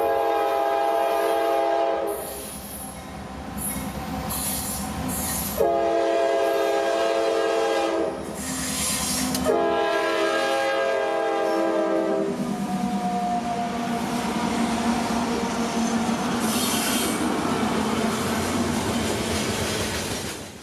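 CSX freight train M452 on the Florida mainline, with an AC-44CW among its locomotives, sounds its horn in loud repeated blasts of varying length up close, then rumbles on as wheels clatter steadily over the rails.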